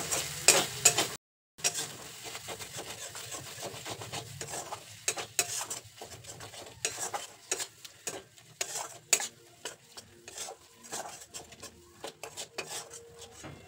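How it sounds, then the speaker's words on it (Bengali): Spice masala with a little water stir-fried in a pan for a spicy sea crab curry, with steady scraping and clattering of a spatula against the pan over a soft sizzle, close up, with no talking. "মশলাটা খুব ভালো করে কষিয়ে নিয়েছি।"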